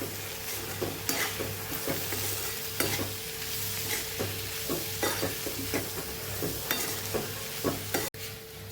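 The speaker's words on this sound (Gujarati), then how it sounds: "ચણાનો લોટ ઉમેરી અને સરસ મિક્સ કરી લઈશું આપણે" A spatula stirs raw papaya sambharo with sugar and gram flour in a pan, making frequent scraping strokes over a constant sizzle, close up with no talking.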